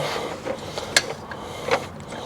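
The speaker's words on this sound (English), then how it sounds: "So I'm gonna see if I can crank it just with a wrench" A hand wrench turns an engine over by its harmonic balancer, giving a few faint metallic ratcheting clicks and soft mechanical creaks against a quiet shop background.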